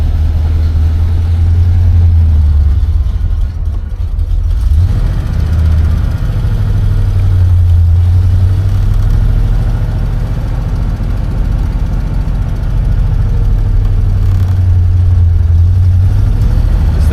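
A 1956 Chevrolet Bel Air convertible's engine runs steadily while driving with the top down, a loud, continuous low rumble with a slight swell as the car moves along.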